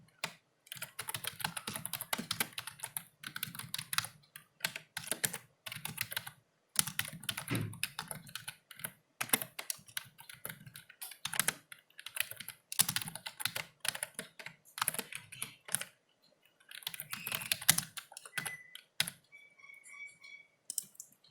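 Close computer keyboard typing while writing a C++ program on a Linux machine: bursts of crisp key clicks in irregular runs with brief pauses between, no talking.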